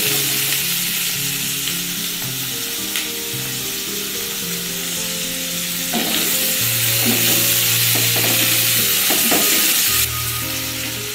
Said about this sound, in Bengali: এবার এটা ভালো করে নাড়াচাড়া করে নিতে হবে।